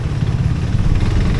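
A KTM Duke 390 single-cylinder motorcycle engine idles nearby with a steady low throb and a faint mechanical clatter, running continuously and alone.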